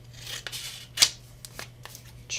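Scissors trim folded paper in several short, crisp snips with papery rustling in between, close up, and one sharper cut stands out in the middle.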